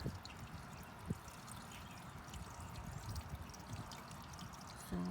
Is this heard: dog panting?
no